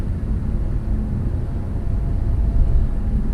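A Honda Accord with a CVT cruising at about 55 mph, with a slight vibration felt in the cabin, gives a steady, close low rumble of road and engine noise that holds constant throughout, with no talking.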